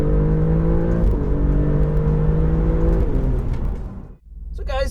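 An Alfa Romeo Giulia GTAm on a race track, its engine droning loudly and steadily with shifting tones, then dropping away sharply before a high, whirring revving sound rises near the end.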